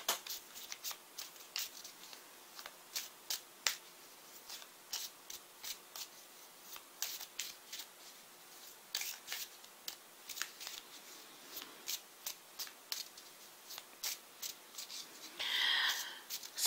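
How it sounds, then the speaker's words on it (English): Tarot cards shuffled and drawn close up: soft, irregular riffles and flicks of the deck with quiet pauses between, ending in a brief fuller burst of card handling, with no talk. "Let's pick clarifying cards very quickly for these."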